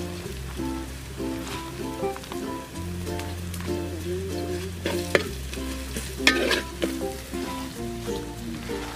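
Chili powder and turmeric fry in oil in a pan, giving a steady crackling sizzle with occasional stirring clinks. Background music with sustained bass notes plays throughout.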